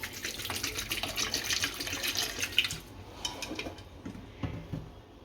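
Water poured into a pot of potatoes for boiling, a splashing, gushing pour that tapers into softer trickles and drips.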